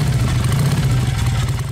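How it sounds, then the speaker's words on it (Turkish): A motorcycle engine runs with a deep, loud, rumbling throb, steady and close with slight fluctuations, no talking over it. "Motosiklet giderken işte böyle ses çıkarır."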